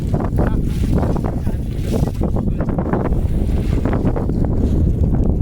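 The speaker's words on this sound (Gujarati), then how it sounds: "પવન જબરજસ્ત ચડ્યો." Strong gusting wind on a farm field roars and buffets the microphone continuously, a loud rushing noise with no clear voices.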